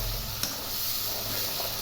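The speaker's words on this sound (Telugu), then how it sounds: "ఇలా బాగా వేగనివ్వాలండి. మనకు ఆయిల్ అంతా బాగా పైకి తేలాలి" Ivy gourd and onion fry in hot oil in a pan, a steady close sizzle and hiss throughout with one brief sharp tick near the start.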